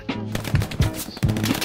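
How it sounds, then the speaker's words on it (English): Machine gun fire in the World War II shooter Hell Let Loose, a short burst of about four rapid, loud, close shots. "That guy got shot with an MG"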